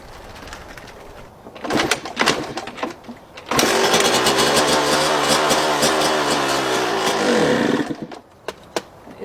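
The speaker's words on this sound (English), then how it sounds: "we'll go ahead and fire it up and see if it sounds like a tractor" A two-stroke dirt bike fueled with diesel starts up amid a few sharp bursts, then runs loud and rough for several seconds before sputtering and dying, leaving scattered pops.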